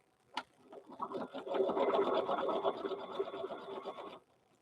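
Sewing machine stitching then back-stitching the top of a fabric bear, a rapid steady mechanical whir running for several seconds after a brief click, close and clear with no speech.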